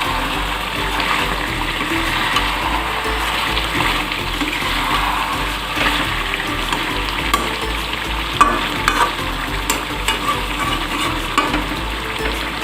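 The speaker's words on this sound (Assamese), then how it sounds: "চিকেনখিনি হাই ফ্লেমত 5 মিনিট ভাজি ল'লোঁ। এতিয়া এবাৰ লৰাই দিছোঁ।" Chicken sizzles in a hot pan over high flame while a spoon stirs and scrapes through it, the frying hiss steady with occasional clanks from the utensil.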